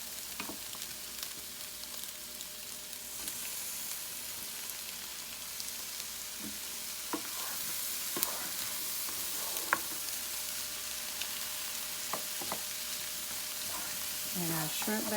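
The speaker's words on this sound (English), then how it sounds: "we're going to add our shrimp back into it" Shrimp fried rice crackles and sizzles in a hot pan under steady frying noise, broken by scattered clinks and scrapes of stirring.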